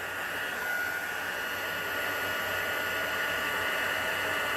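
A heat tool blows continuously while heat embossing a resist card, giving a steady, loud, close hair-dryer-like whoosh with no change and no talking.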